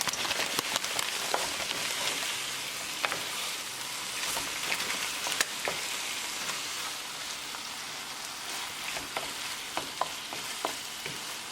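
Mashed roasted aubergine bharta mixed with frozen peas in a pan, a steady soft sizzle broken by scattered scraping and tapping clicks from the spoon, close and moderately quiet, with no talking.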